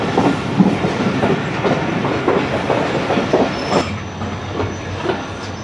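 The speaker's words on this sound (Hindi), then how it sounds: "अब तेज़गाम स्लो पास करेगी सम्मासट्टा रेलवे स्टेशन को।" The Tezgam train passes slowly through Sammasatta railway station with loud, close clickety-clack wheel rhythms over the rails and faint squeals, easing off toward the end.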